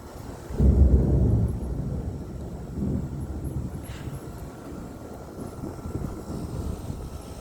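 Thunder from a lightning storm rolls in as a loud low rumble that swells suddenly and then fades into a long grumbling tail, with wind noise on the microphone.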